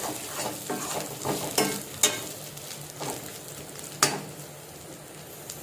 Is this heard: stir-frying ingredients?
yes